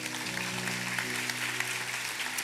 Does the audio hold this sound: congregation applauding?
yes